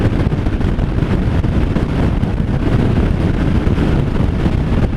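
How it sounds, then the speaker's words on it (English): Wind roars steadily and loudly past the microphone on a moving 2018 Harley-Davidson Fat Bob 114 motorcycle with no windshield, a dense unbroken rushing that covers the engine. "You guys are probably hearing the wind quite a bit because there's no buffeting between me and the wind."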